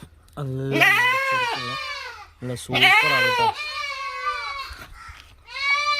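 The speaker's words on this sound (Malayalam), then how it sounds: "ആട് കേട്ടോ, പാലുള്ള നല്ല പാലുള്ള ആടാണ്." A Malabari nanny goat with kids bleats loudly and close, several drawn-out wavering calls in succession with short gaps, while someone talks briefly between them.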